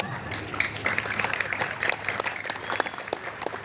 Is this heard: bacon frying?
no